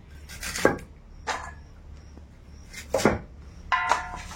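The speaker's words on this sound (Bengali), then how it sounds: "ডাঁটাগুলো সব একসঙ্গে করে নিয়েছি, নিয়ে কাটতে সুবিধা হচ্ছে।" A knife chops through bundled vegetable stalks in a garden-fresh kitchen setting, five or six separate crisp cuts at uneven intervals, close and fairly quiet.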